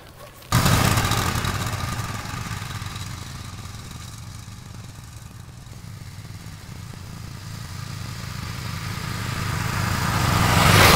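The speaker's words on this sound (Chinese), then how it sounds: "等会儿拿拖拉机把下边的原土跟堆肥土一起稍微的给它混合均匀" A tractor engine churns freshly dumped, still-warm compost into the native soil of a vegetable garden, its steady mid-pitched drone starting abruptly and holding loud and close, swelling slightly toward the end with no voices.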